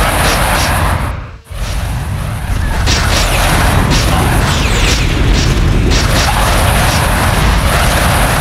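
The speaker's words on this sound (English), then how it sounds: "Plasma cannon ready." A plasma cannon firing in the sci-fi game Atrox, dense loud blasts and crackling bursts with a brief dip before a sustained roaring barrage, close and overpowering.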